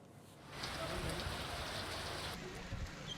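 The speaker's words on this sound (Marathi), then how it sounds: "वादळी वाऱ्यासह जोरदार पाऊस बरसला" Heavy unseasonal rain falls with stormy wind in Maharashtra's rural farming area, a dense steady hiss that swells after a quiet start and holds loud and close to the end.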